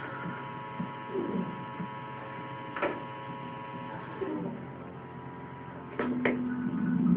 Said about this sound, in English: it sounds like my Xbox is fixing itself